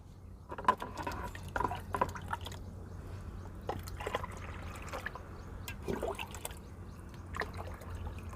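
Water poured to measure one litre for repotting a rose, heard as soft close dripping and trickling splashes in short bursts against a low steady hum.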